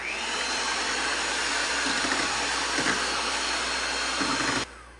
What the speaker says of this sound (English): I'm just going to use the old-fashioned handheld mixer, and I'm just going to break them up